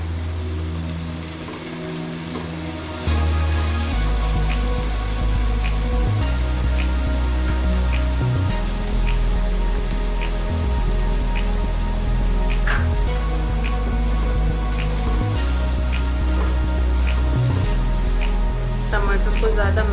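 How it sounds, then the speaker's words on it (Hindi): Tomatoes are added to onions already fried in a pan for upma, with a continuous sizzle and light crackling over a steady low hum, and speech is present. "इसमें हम डालेंगे टमाटर"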